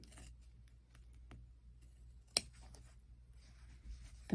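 Scissors trim through layers of quilted fabric in quiet, close snips, a few soft cuts with one sharper click, against near silence.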